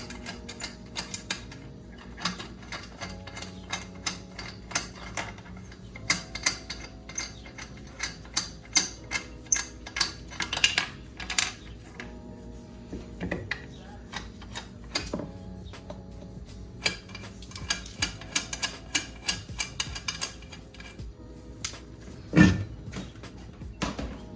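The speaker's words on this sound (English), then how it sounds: "First, we got to take off the wheel." A hand ratchet clicks in bursts of rapid ticking while a wheel is removed during a spindle replacement, with metallic knocks and clanks between runs and no talking.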